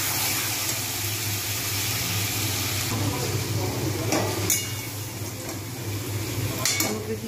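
Chicken pieces cooking with red-fried onions in a pan, a constant low sizzle under repeated spoon scrapes and clinks against the metal.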